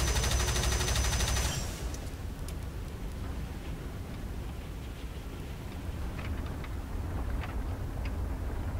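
Cannon bursts from an I-185 (M-82) fighter in War Thunder, a dense loud salvo in the opening second and a half, then a steady engine roar with scattered faint pops.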